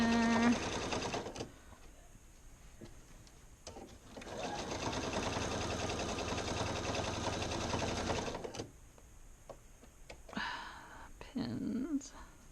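Sewing machine stitching across a pant leg of a Simplicity 2481 trouser project, with loud rapid mechanical bursts in several runs separated by pauses and handling noise, the longest steady run in the middle.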